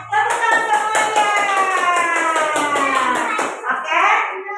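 A class of children claps hands together in a classroom, the rapid claps falling into a rhythmic pattern while a voice sings or chants clearly over them, then the sound tapers off.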